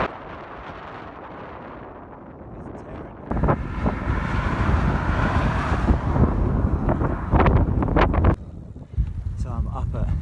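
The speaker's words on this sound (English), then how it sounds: "Just as I've hit the mountains, it's got pretty windy." Strong mountain wind at about 1,600 metres in central Turkey buffets a microphone on a bikepacking ride, with heavy low rumbling gusts that swell abruptly partway through and keep pounding in uneven bursts.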